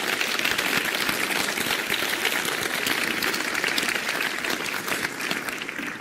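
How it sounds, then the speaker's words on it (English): A large audience gives a round of applause, a loud, dense and continuous roar of clapping hands that holds steady from start to finish. "I want to say, all of you, a big thank you and a round of applause to Jim Martin and Paul Davidson."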